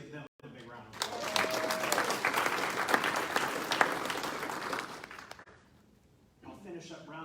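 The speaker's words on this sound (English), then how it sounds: "let's give them a big round of applause." Audience applauding at a liaison training event, a dense steady burst of clapping across a room that swells, holds for several seconds, then tapers off, with a voice briefly heard before and after.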